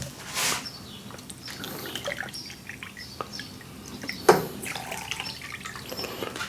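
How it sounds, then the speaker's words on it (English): One cup of water is poured, a soft trickling and dripping liquid sound with a small splash, fairly quiet against a light background hiss. "next we need 1 cup of water."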